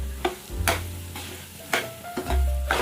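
Semolina (rava) roasts in a pan and is stirred, giving intermittent scraping strokes over a soft, steady sizzle close by.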